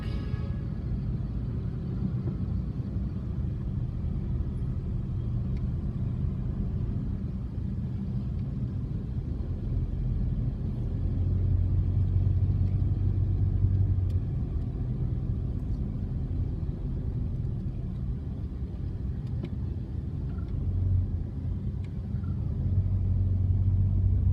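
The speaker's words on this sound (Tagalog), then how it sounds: "Napaka-traffic ngayong gabi." Dense night traffic crawling up the road to McKinley Hills: a continuous low rumble of car engines and tyres, swelling slightly as vehicles move close by, with no talking.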